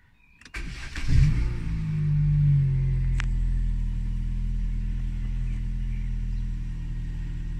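A car engine cranks and catches with a loud rumble, then settles into a steady, close idle that carries on to the end with no talk.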